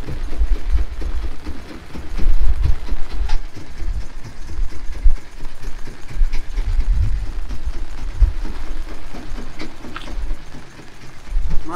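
A motor boat engine runs on a river in the Sundarbans, a loud uneven chugging drone that rises and falls in surges, with no voices over it.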